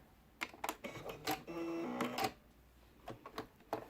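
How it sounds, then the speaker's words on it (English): A sewing machine stitches a cotton face mask in short bursts of rapid mechanical clatter, running back and forward with brief pauses between runs, close up and with no talking. "Get near the end, a few stitches back, a few stitches forward,"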